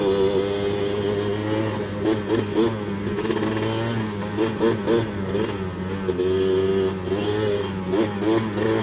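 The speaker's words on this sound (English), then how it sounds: "such a quick revving 2-stroke engine" A Honda 250R two-stroke engine revs hard up close, its raspy buzzing note rising and falling in quick bursts through the pipe, loud and unbroken across the clip.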